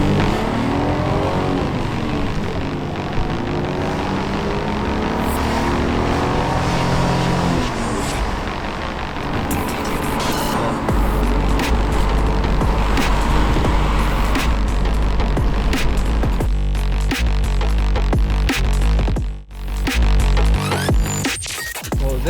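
Car driving and revving its engine on a drive in Canada, loud steady engine drone with rising and falling revs and gear changes, heavy low rumble building in the second half, close to the microphone.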